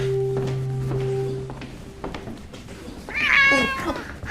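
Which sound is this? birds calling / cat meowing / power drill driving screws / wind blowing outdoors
cat meowing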